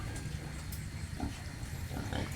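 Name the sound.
pig sounds on a pig farm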